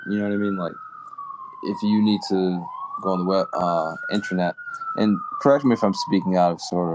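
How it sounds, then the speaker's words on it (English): A police siren on a Harlem street wails in a slow rising and falling sweep throughout, at moderate distance. Someone talks steadily over it. "And pardon the siren, but I live in Harlem."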